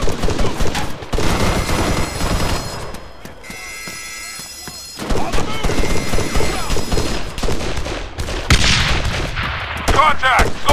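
Heavy, loud bursts of rifle and machine-gun fire from an Arma 3 firefight come close together, with brief quieter gaps between volleys.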